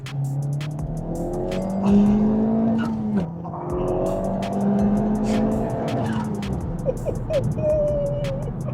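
A Honda Civic Type R FK8 driven hard in R mode, its engine note climbing and dropping through gear changes while tires squeal and skid, loud and continuous with revs rising and falling.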